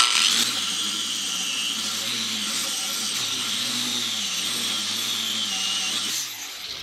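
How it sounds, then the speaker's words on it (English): Steady sanding of a car wheel with 600 grit sandpaper, a continuous bright abrasive rasp with a low hum underneath, running evenly for several seconds and easing off near the end. "sand the whole surface down with 600 grit so the paint has something to grab onto"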